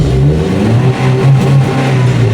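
Engine of a 2004 Ford Escape revving steadily, a loud, rough mid-pitched drone that rises and falls a few times, with no voices over it.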